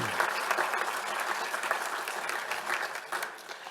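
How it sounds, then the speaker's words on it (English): A graduation ceremony crowd gives sustained applause for a graduating class, with steady, dense clapping from many hands that tapers slightly near the end. "How about a round of applause for this wonderful"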